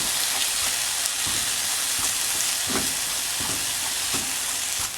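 Chicken breast sizzles and fries steadily in a pan as its liquid cooks off, a loud continuous hiss broken by the occasional stirring scrape, with no talk.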